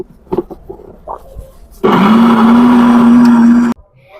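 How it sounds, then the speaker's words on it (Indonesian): A blender grinding a spice paste with egg mixed in kicks on abruptly, holds a loud steady motor whine for about two seconds, then cuts off, preceded by soft kitchen clatter. "Bumbu siap di blender."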